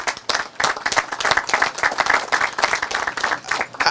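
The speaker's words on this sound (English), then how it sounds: "Let's give them a round of applause." A crowd applauds at a groundbreaking ceremony for a residential building, a lively patter of many hands clapping in uneven surges, close and continuous for several seconds.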